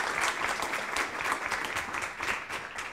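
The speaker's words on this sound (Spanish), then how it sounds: "un aplauso para este equipo." A seated audience at a professional case-study session applauds a team, a steady ripple of many clapping hands that swells and eases slightly over a few seconds, moderately loud and without speech.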